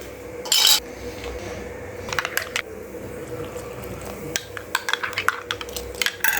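Bread dough ingredients being mixed in a bowl at home: scattered metallic clinks and scrapes of a utensil against the bowl, with a brief louder rattle early on and quick clusters of taps toward the end, close and without speech.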